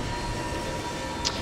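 A train rumbles past in The Darkness 2 video game, a steady low roar with a faint high squeal near the end, close and unbroken over a brief moment.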